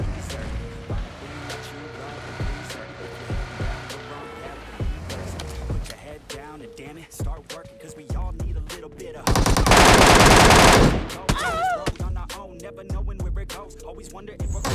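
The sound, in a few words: MK14 rifle gunfire in PUBG Mobile video game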